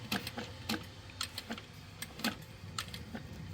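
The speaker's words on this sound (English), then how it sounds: "I'm going to pivot right here and sew up this straight area," A sewing machine stitches a handbag seam, giving a quiet, fairly regular run of soft mechanical clicks and taps, low in level and without talk.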